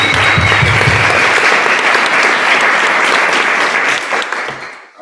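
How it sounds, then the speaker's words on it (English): Loud, dense round of applause from an audience at a startup pitch event, steady for several seconds before fading out near the end. "Well, let's give Russell a big round of applause"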